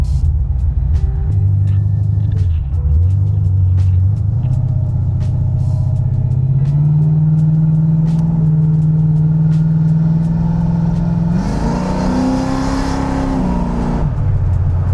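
A G-body car fitted with an upgraded UMI sway bar drives through turns on a street, its engine rumbling steadily close by, with a brief rise in revs near the end before settling back.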